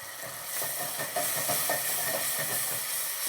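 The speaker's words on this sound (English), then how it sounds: "We're gonna deglaze it all with a little bit of brandy." Brandy hits a hot pan to deglaze it, giving a loud, steady sizzling hiss that fills the whole stretch with no talking.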